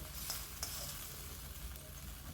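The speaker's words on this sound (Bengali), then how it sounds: "এবার ভালো করে মিশিয়ে নিচ্ছি গ্রেভিতে দেওয়ার পর" Fried cauliflower gobi manchurian is stirred into a hot gravy in a pan, giving a quiet, continuous sizzle with soft scraping from the stirring.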